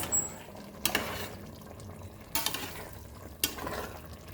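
Soft, thick stirring of chicken curry in a pot with quiet scraping, punctuated by a few brief louder clanks of a utensil against the side.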